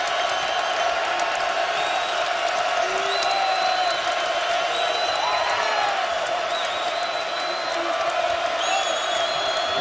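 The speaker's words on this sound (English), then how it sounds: "Listen to the crowd, ladies and gentlemen." A college basketball arena crowd at a Kansas versus Iowa State game roars in a sustained, loud wash of cheering and whoops, with whistle-like tones and a commentator's voice faintly riding over the noise.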